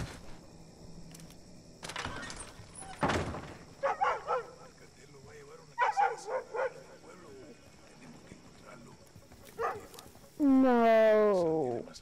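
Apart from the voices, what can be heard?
dogs barking in Call of Duty Modern Warfare II video game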